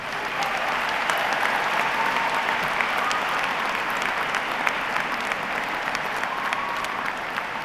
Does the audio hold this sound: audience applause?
yes